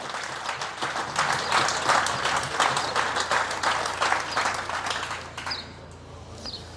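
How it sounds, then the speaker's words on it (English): Festival audience applause, a dense, loud wash of many hands clapping together that holds steady for several seconds, then thins and fades toward the end. "I think we should give a round of applause to the organisers of this festival"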